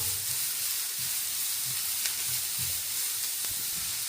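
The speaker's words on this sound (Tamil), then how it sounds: "இந்த கரட்டையும் போட்டு நல்லா மிக்ஸ் பண்ணி ஒரு அஞ்சு நிமிஷம் இந்த கேரட் வந்து நல்லா வதங்கட்டட்டும்" Carrots sautéing in a pan for egg idiyappam kottu give a steady, close sizzling hiss throughout, with soft low stirring scrapes underneath and no talking.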